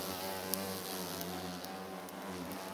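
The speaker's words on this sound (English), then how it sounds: "And they're still attacking me, as you can see, flying around." Hornets buzz steadily as they fly around close by, a continuous insect drone with a few faint ticks over it and no talking.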